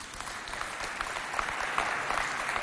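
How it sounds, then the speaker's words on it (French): Studio audience applauding the alumni of G3 on a Chadian television variety show, a dense, steady wash of clapping that holds evenly throughout at moderate level, with no voices over it. "Les anciens, applaudissez pour les anciens de G3."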